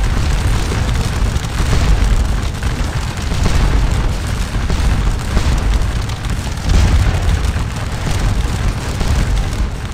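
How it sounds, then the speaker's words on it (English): A Napoleonic battle at Papelotte in the Waterloo strategy game Scourge of War, heavy continuous rumble of musket volleys and cannon booms rolling together into a dense, loud, distant roar with no clear gaps. "As the firefight continues"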